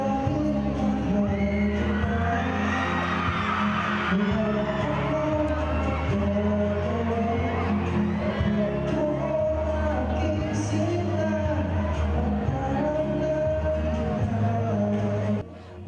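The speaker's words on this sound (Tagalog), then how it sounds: "Mas lumakas naman ang hiyawan ng nag-duet na sina Kelvin at Kate on stage." Fans screaming and cheering at a Christmas stage show in Davao as two young actors sing a duet together, a dense, steady roar of shrieks and yells over loud music that runs the whole time.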